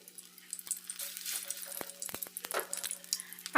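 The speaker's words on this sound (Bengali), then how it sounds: "এবারে আমি বড়াগুলো ভেজে নেব" Flower fritters (bora) fry in hot oil, with a crackling, bubbling sizzle that builds unevenly and scattered small clicks and taps from the pan.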